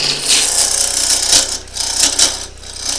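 A cherry burl spins on a wood lathe at low speed while a tool cuts into it, giving a loud, close, rasping scrape that swells and dips in uneven pulses.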